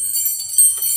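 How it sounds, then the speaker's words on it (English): Metal dragonfly wind chimes ring with bright, shimmering tones that overlap and sustain, a few fresh strikes adding brief louder accents, heard close and alone. "So these were some dragonfly wind chimes"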